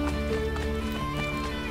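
Rhythmic hoofbeats of a galloping horse in Assassin's Creed: Brotherhood over steady game music, the thudding pace continuous and fairly close throughout.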